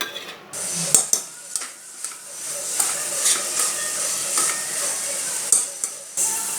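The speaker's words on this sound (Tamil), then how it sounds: "நல்லா வதக்கணும்." Shredded cabbage sautéing in a pan for cabbage pulao while being stirred: a steady close sizzling hiss broken by sharp spatula scrapes and clicks against the pan, with no talking.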